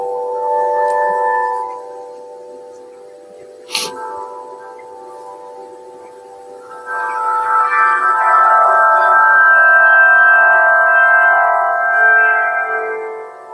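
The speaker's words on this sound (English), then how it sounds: "All the strings play at once, but only at certain frequencies, depending on the speed of the wind." Strings hum together in the wind like an aeolian harp, sustained glassy tones that fade, give way to a sharp click, then swell back in a richer, shimmering chord before settling.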